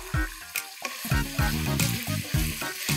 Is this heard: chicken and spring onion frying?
yes